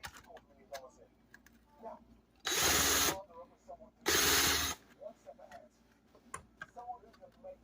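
Power drill working on rusty screws in scrap metal, two loud sustained bursts of whirring about a second each, separated by a pause, over quiet clicks and handling noise.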